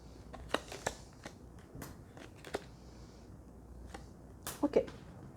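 Tarot cards are gathered and put away, with soft scattered flicks, slides and taps of card stock, a flurry of louder riffles near the end, all fairly close and quiet.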